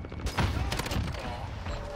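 Rapid gunfire from a video game shooter crackles in a dense burst over a busy game soundscape, with loud shots clustering near the start and continuing under a talking voice.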